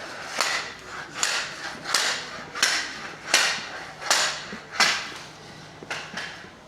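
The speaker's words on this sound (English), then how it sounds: "Just hammering the decking boards in place with a spirit level." Decking boards being hammered into place outdoors in a seaside resort, eight sharp, evenly spaced blows about a second apart with short ringing tails, heard from a moderate distance.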